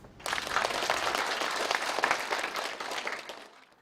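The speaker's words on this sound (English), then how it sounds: "Applause for the bright future in China-Africa relations" Applause at a China-Africa business forum: a hall of clapping starts abruptly, stays full and steady for a few seconds, then thins out and fades at the end.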